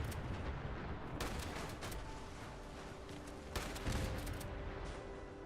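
Gunfire aimed at mole rats in Fallout 76, a dense, continuous rattle of shots with heavier bursts near the middle and again toward the end, loud and without talk.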